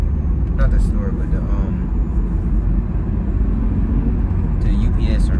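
Mazda car idling with its exhaust muffler removed, a loud low rumbling drone that stays steady throughout, with someone talking over it.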